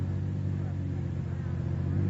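Car engine running steadily in an old-time radio drama, a constant low droning hum under the scene, with a voice speaking over it.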